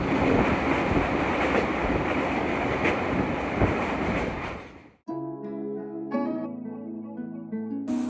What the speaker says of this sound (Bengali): এখন ট্রেন ঢুকছে বেথুয়াডহর স্টেশনে